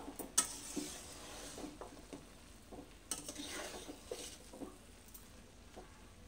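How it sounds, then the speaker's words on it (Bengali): Pulao rice stirred in an uncovered pot over low gas heat, soft scraping and clinking of a spoon against the metal pot with faint sizzling underneath, quiet and close, no voices. "এবার ঢাকনা খুলেই নাড়তে হবে।"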